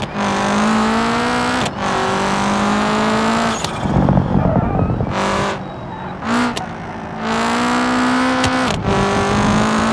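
A rally car in BeamNG.drive, driven without ABS, revs hard and steady through gear changes, with tire skids and brief drops in engine tone, loud and close.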